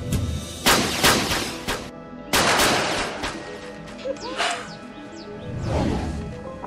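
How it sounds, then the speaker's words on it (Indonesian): Gunshots during shooting practice in a drama: loud sharp reports, two big blasts spaced apart with smaller shots and rattling echoes between and after. "Beberapa orang terlihat berkembang karena sudah berhasil menembak tepat sasaran"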